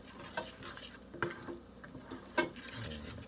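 A spoon stirs beef bourguignon sauce in a pot, making scraping clinks against the metal at irregular intervals, with a faint sizzle of cooking underneath and no talking.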